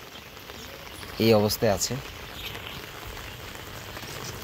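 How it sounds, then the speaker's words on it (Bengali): Heavy, unbroken torrential rain pours down over an outdoor bird colony, a constant broad hiss throughout, with someone speaking briefly over it. "একদম মুষলধারে বৃষ্টি হচ্ছে, কোনো বিরতিহীন বৃষ্টি হয়েই চলছে।"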